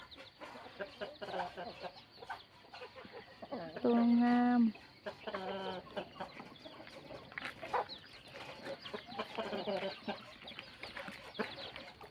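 Chickens cluck and squawk nearby in a Thai farmyard, with one loud sustained call midway, while people talk over the birds.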